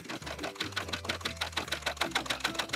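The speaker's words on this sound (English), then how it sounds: "test it out on your first few inches of serging." A serger sews through sweater knit in a steady, rapid mechanical chatter with a low motor drone underneath, close up and continuous, with no talking.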